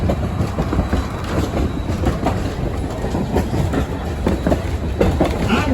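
Riding behind Alaska Railroad locomotive 152, the rail car rumbles steadily with rhythmic clickety-clack of wheels over track joints, loud and close with no voices.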